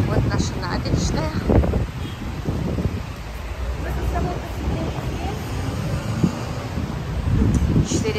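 Wind blows over a seaside promenade in Turkey, rushing steadily against the microphone while someone talks over it and other voices murmur nearby.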